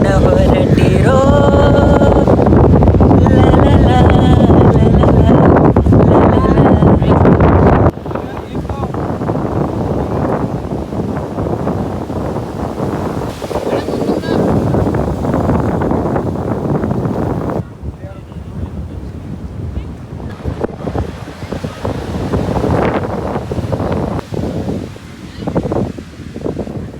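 Wind gusts and rolling surf fill a beach scene, a loud, steady roar with microphone buffeting that eases partway through, and people talking underneath.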